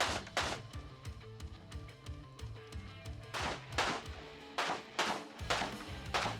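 Shots from a Daewoo DR200 rifle at a shooting match, firing from several windows and a doorway: sharp gunshots in quick irregular clusters, close and loud, with brief pauses between strings.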